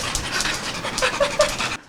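A husky dog at a veterinary clinic pants quickly and rhythmically close by, a steady run of loud breathy huffs that stops abruptly near the end.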